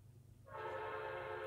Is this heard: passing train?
yes